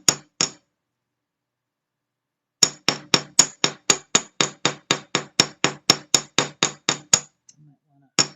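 A hammer flattens earring wire for dangle earrings: two sharp metallic taps, a pause, then a quick steady run of about seventeen close, loud strikes, with no talking.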